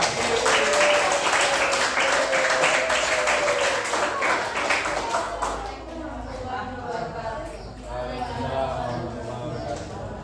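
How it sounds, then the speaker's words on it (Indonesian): Classroom applause for a student group, a dense patter of many hands clapping together at moderate loudness, with children's voices calling out over it in the second half. "beri tepuk tangan untuk kelompok 4"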